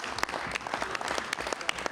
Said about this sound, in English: these women deserve a big round of applause